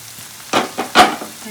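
Onion stalks and shrimp sizzle in oil in a pan, with a few short bursts of crackling frying and stirring standing out over a quiet background.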